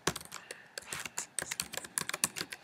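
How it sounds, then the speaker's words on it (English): Fingers tapping on a computer keyboard, a quick irregular run of close, crisp keystrokes with brief pauses, steady and alone without speech. "I'm going to scroll down and I'm going to type in Rebecca's first drafts"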